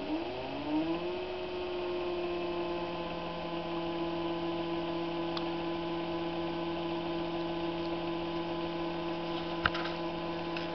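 A Shapeoko machine with a laser cutting craft foam gives off a steady tonal whir and hum that rises in pitch at the start and then holds constant, with a couple of faint clicks and no talk.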